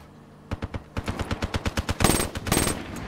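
Rapid bursts of video game gunfire crack out in quick succession, a steady stream of loud, close shots that swell into a denser volley near the end.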